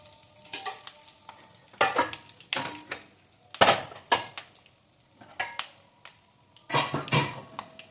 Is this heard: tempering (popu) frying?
yes